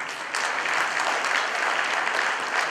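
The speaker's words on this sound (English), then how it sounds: "so just give everyone a round of applause" A school reunion audience in Chicago applauds, filling the room with steady, dense clapping that starts abruptly and holds at an even, fairly loud level throughout, with no voices over it.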